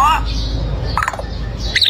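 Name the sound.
bird chirping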